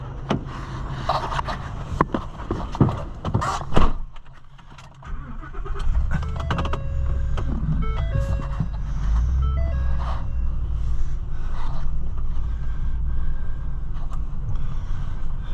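A Ford L9000 semi truck with a Cummins engine driving around a parking lot: a steady low diesel rumble with some clanks and a few short beeps, close by and continuous, with no talking.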